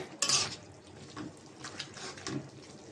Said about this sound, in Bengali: নাড়াচাড়া দিয়ে দিই শাকটা প্রায় হয়ে এসেছে